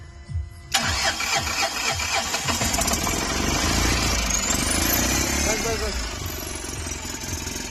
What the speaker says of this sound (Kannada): ಚಾಲು ಆಗಿದೆ ಗಾಡಿ. ಸೈಲೆನ್ಸರ್ ಒಂದು ಫಿಟ್ಟಿಂಗ್ ಮಾಡಿಲ್ಲ.